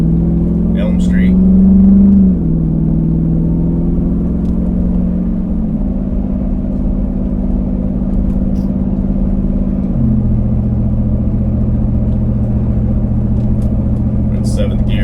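A 2020 Jeep Wrangler 392 SRT with a 3.5-inch Magnaflow exhaust cruising on a street, its engine giving a steady deep rumble with a louder swell near the start and small shifts in pitch as it settles into low revs.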